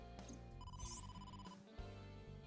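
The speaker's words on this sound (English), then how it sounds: "But we're getting a phone call." A phone rings in the video game AI: The Somnium Files, a quiet electronic ringtone chiming over a steady bed of game background music.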